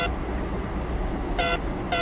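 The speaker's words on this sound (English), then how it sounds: "When I click it, it just honks at me." A metro train's horn in Metro Simulator 2 gives two short honks, a brief blast then a clipped one, over a steady, loud rumble of the moving train.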